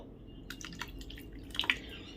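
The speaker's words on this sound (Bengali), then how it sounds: "আর একটু জল দিয়ে দেব" Water poured into a pot of curry, a faint light trickle and a few soft drips over low background noise.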